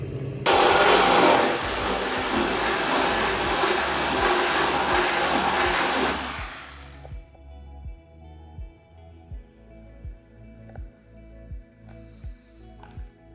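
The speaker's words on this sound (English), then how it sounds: "We're gonna pull it out into the lean-to and get sandblasting." Sandblasting truck fender parts, a loud steady hissing blast for about six seconds, then it cuts off, leaving rhythmic mechanical thumps from a running machine, no talking.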